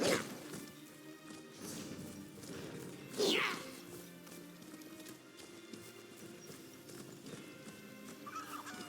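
Horse mount in the Elder Scrolls Online video game: steady rhythmic clip-clop of hooves over game ambience, with a sharp crash-like impact early on, moderately quiet throughout.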